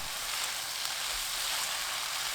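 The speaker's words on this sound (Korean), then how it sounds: "진간장 2큰술, 굴소스 2큰술 넣고 1분 20초 볶아줍니다." Bean sprouts stir-frying over high heat with soy sauce and oyster sauce, a steady, close, dense sizzle that runs unbroken with no talking.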